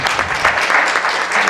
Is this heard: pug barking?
no